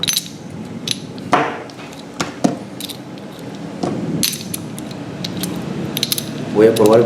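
Metal parts click and clatter up close as a gear is slid and fitted, with sharp ratcheting taps and short scraping movements.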